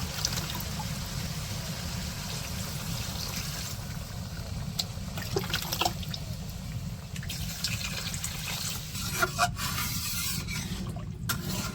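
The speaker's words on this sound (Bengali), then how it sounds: "এই যে ঝোল দিয়ে দিল, ঝোলটা হচ্ছে একটু বেশি করে দিয়ে দিছে।" Broth is poured into buffalo meat curry simmering in a pot at a village cooking setup, giving a continuous soft liquid trickle and sizzle with faint scraping, steady and close throughout.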